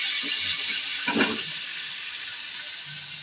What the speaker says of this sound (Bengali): দেখো বন্ধুরা মশলাটার মধ্যে তেল ছেড়ে দিয়েছে এবার আমি জল দিয়ে দেবো